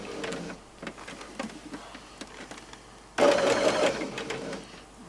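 A sewing machine stitches binding onto oven gloves with a steady mechanical whir. It runs quietly at first, then grows louder and faster for the last couple of seconds, close by.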